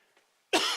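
A single loud, sharp cough bursts out after a near-silent pause during a council meeting, close to the listener.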